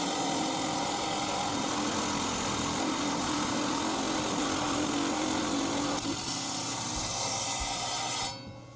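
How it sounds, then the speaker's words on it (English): A stainless steel Highland Park 10-inch slab saw cuts through Mozambique agate, a loud, steady motorized whine and grinding drone that holds evenly for about eight seconds before cutting off abruptly near the end. "I'm going to cut them on my stainless steel Highland Park 10-inch slab saw"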